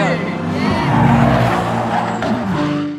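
A McLaren drift car's engine roars and revs hard nearby at a drifting event in Japan, rising and falling as it slides past, with tire noise and faint voices underneath.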